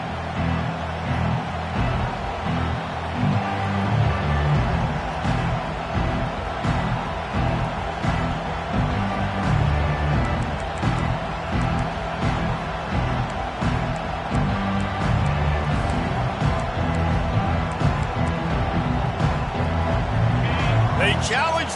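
Stadium crowd at a college football game, a continuous loud roar of many voices filling the background under a commentator's talk.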